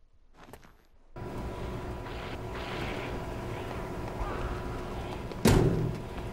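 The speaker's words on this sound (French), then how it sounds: "Arrivée de l'hélicoptère." Helicopter arriving in the Dead Rising video game: a steady, loud rotor and engine drone sets in after a quiet opening second, holds through the clip, and ends with a sharp, loud burst near the end.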